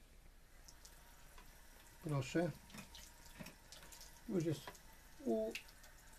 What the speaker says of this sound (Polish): Delikatnie wodą włączymy, delikatnie, nie tak mocno miało być.